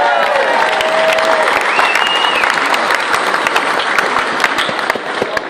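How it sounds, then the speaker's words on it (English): An audience bursts into sustained applause at a speaking event, a dense, steady wash of many hands clapping for several seconds, loud and close, with faint voices and a brief whistle-like tone riding over it. "Give yourselves a round of applause for that."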